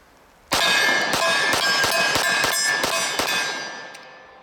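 A concealed-carry pistol is fired as fast as possible, its shots ringing off steel targets in a quick run of about eight sharp metallic clangs, loud and close, with no talking.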